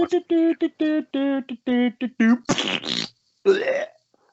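Playful sound effect of a man throwing up and farting, a string of short buzzy vocal bursts followed by retching gasps and splutters, loud and close, apparently imitated by a voice.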